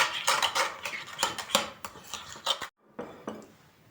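Crushed garlic stirred into mayonnaise in a bowl, a spoon clinking and scraping against the sides in quick irregular strokes, close and alone, then a brief pause and a few softer taps.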